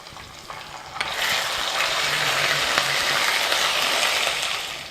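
Dried red chilies and ginger-garlic paste frying in hot oil while being stirred, a steady loud sizzle with scraping clicks of the utensil against the pan, rising after the first second and holding close.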